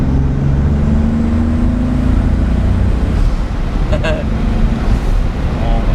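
A 1988 Toyota Supra MKIII with a big turbo running modest boost pulls smoothly from inside the cabin, a steady loud engine and road drone that climbs gently while people talk over it.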